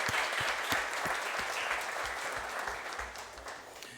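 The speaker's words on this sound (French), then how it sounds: "Est-ce qu'on peut l'applaudir ?" A church congregation gives steady, dense applause that holds level throughout, with a few individual claps standing out.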